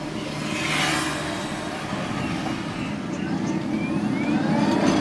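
Montra electric auto-rickshaw pulling away in power mode, a steady road and motor rush with a low hum that swells slightly as speed builds, continuous and fairly close throughout.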